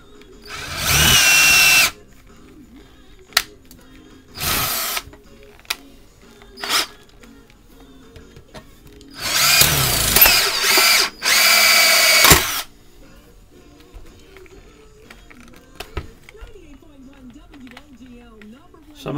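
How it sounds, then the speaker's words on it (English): A power drill bores small pilot holes in a Stanley camp pot, loud bursts of high whirring, two short, one brief, and a longer pair, separated by quiet gaps with faint handling noise. "I just did a couple small pilot holes."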